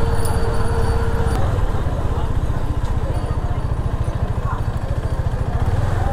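KTM Duke 250 motorcycle idling while being parked, a loud, steady, rapid engine thump close by, with background noise around it.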